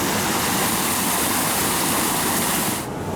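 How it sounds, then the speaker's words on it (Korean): Artificial waterfall spilling into a garden pond at a lotus cultural festival in Yangpyeong, a loud continuous broadband rush of falling water that drops away abruptly at the very end. "풍취를 즐길 수 있는 인공 연못과 폭포도 있었고요."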